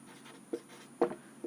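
A pen writes on paper in a faint, close scratching, with a couple of slightly firmer strokes in a short stretch with no talk.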